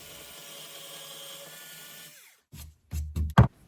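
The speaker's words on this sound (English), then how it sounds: "Now to drill the hole for the placement of the screw." A power drill whines steadily for about two seconds while boring a hole in wood for a screw, then winds down, followed by several short, louder knocks and handling sounds.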